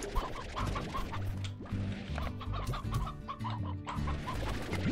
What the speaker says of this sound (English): Give me your chicken. I guess I'll take a chick too.